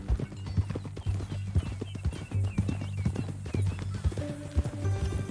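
Hooves clip-clop in a steady walking rhythm on hard ground in Red Dead Redemption 2, close and distinct, with a low droning tone underneath.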